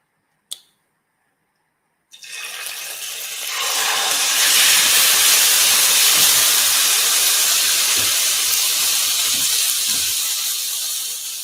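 Food goes into a hot pan all at once while Mexican street food is cooked. After a sharp click and a short silence, a loud, broad sizzle rises and holds steady, then eases slightly toward the end.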